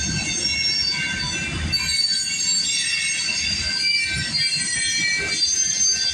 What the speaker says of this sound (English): Every time this train starts to motor, we get to the very end of the train.